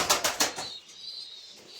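An Andijan pigeon claps its wings in three quick, close flaps, followed by a quiet stretch of faint background hiss.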